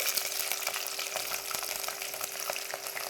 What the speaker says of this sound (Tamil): பச்சை மிளகு, இஞ்சி இதெல்லாம் போட்டு நல்லா ஃப்ரை பண்ணி எடுக்கிறேன்